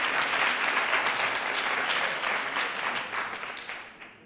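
An audience at a school spelling competition bursts into a strong round of clapping that holds steady and then tapers off toward the end.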